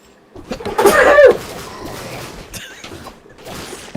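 A sudden loud sneeze-like burst rises out of a home podcast chat, brief and close, then fades into quieter background voices and movement.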